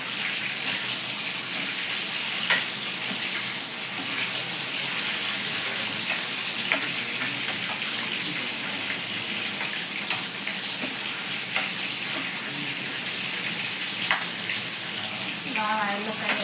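Eggs frying in hot oil give a continuous, fairly loud crackling hiss with scattered sharp pops throughout and faint voices underneath.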